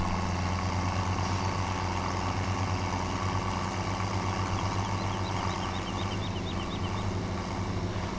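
Steady tractor engine drone from Farming Simulator 17, a continuous low idling rumble with constant loudness and no breaks, heard alone without talk.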